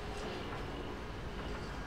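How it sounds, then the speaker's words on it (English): A train car rolling along rails on the Call of Duty Ghosts multiplayer map Siege, giving a steady, dense rumble with faint rattling that holds at an even level the whole time, with no voices. "you can see the train car actually moves along the rails"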